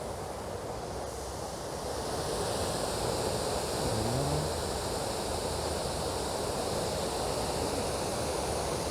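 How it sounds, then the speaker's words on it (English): A small waterfall spills into a pond on the grounds of the US embassy, giving a steady, close broadband rush of falling water with some wind buffeting on the microphone and no talking. "Got a lovely little waterfall there surrounding the pond."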